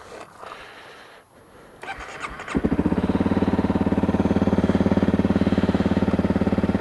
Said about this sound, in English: start this thing up